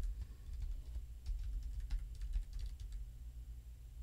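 Typing on a computer keyboard, a quick, irregular patter of close, soft key clicks over a low background hum, continuing steadily throughout.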